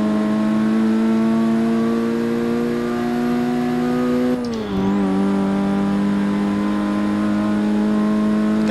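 A C-class race car in Forza Motorsport 6 holds its engine at high RPM, a loud, steady, buzzing whine that dips briefly around the midpoint and then climbs back up, with no talking.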